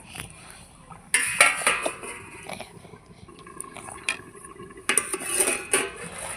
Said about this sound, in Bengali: এবারে আমি ঢাকনা দিয়ে কিছুক্ষণ জাল করে নিব